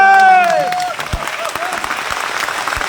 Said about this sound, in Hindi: कैसी ताली बननी चाहिए हमारे लिए?